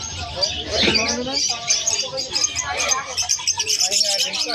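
Pet birds chirping at a bustling pet market in Malabon, quick tweets and calls scattered throughout under steady conversation from people nearby.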